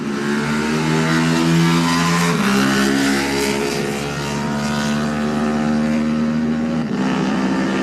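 Classic Honda racing motorcycle pulling away from the start at the Junior Classic TT, a loud, close engine howl rising in pitch through several gear changes, with a steady drone continuing throughout.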